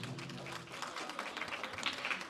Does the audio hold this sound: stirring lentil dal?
no